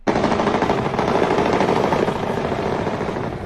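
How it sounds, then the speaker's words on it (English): Heavy gunfire rattles through the city of Chabahar in southern Iran, a loud, dense stream of rapid automatic bursts that runs without pause from start to finish, sounding close and harsh. "quite heavy gunfire going on right there in the city of Chabahar in southern Iran"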